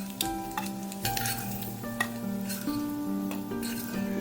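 Eggs fry in hot oil for a Tamil-style egg pepper fry, a steady sizzle running throughout with repeated scraping and clinking strokes of a spoon stirring in the pan, close and fairly loud.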